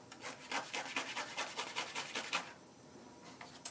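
A stiff bristle brush scrubs pastel off artwork in quick rhythmic strokes, close and fairly quiet, trailing off into softer scraping near the end.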